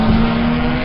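A race car at Suzuka circuit passes close by on the final corner of a lap, its engine a loud, steady, high-pitched drone for the whole moment.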